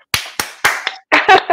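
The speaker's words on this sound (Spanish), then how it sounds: "va a entrar aplaudiendo" Several sharp hand claps sound close and loud at an uneven pace, followed by a short burst of voice or laughter.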